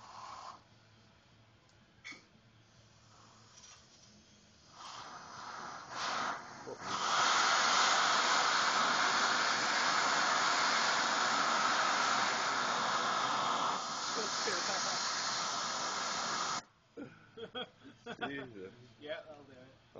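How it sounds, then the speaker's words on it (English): Compressed air hisses loudly and continuously for about ten seconds while heating a cup of coffee over an improvised stove, framed by quieter handling noises and a few short bursts. "Compressed air. That's what we want."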